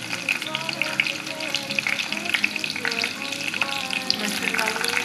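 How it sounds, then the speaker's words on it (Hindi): Chopped onion sizzling in hot oil with cumin seeds in a kadai, a dense, steady crackling hiss that stays loud and close throughout, with faint stirring clinks. "ये प्याज डाल दूंगी"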